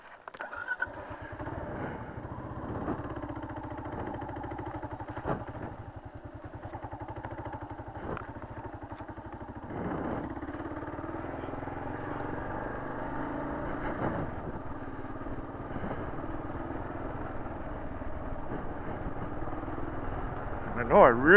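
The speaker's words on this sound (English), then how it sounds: "I'm taking this route and stalling the bike." A KLR 650 motorcycle engine idles with a low, steady, mid-pitched chug, then falters as it stalls, close by. A voice murmurs faintly at times.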